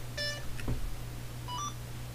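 A Firma 40A ESC in an SCX10 III RC crawler, being bound to a DX5 Rugged transmitter, gives a short run of electronic beeps near the start and another brief pair of tones a moment later, over a steady low hum.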